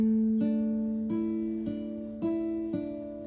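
Acoustic guitar fingerpicking a song's pattern, a steady sequence of plucked notes ringing together over a held bass, played close and clear with no talking.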